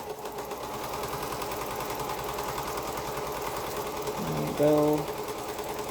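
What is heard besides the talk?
sewing machine stitching a quilt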